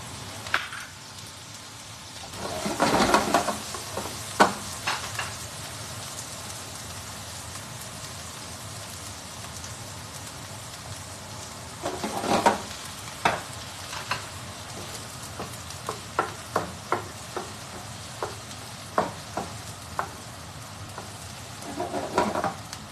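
Garlic, onion and bacon sizzle and crackle in a hot pan for chicken penne pasta, a steady frying hiss broken by louder bursts and scattered pops and stirring scrapes, close and without talk.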